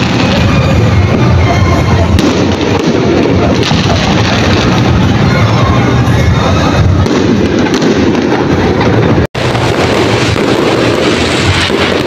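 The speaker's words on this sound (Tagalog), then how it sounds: "kita nyo naman kung gaano kaganda yung fireworks" Fireworks display at BGC during December, a dense, loud, continuous crackle and rumble of bursts, with wind buffeting the microphone and a crowd underneath.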